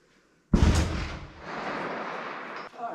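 A short shotgun fires a single loud, close blast followed by a long rumbling echo lasting a couple of seconds, then a faint rattle of handling at the end.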